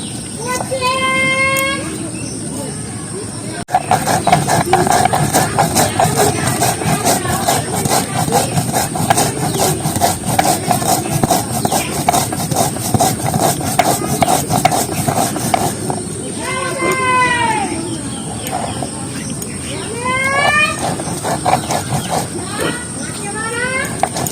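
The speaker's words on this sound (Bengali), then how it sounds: "জিরে শুকনো জিরে কিন্তু একটু জল দিয়ে তারপর জিরেটা বেটে নিচ্ছি" Soaked dry cumin is ground on a stone shil-nora slab, with rhythmic, gritty scraping strokes repeating steadily at close range under intermittent talking.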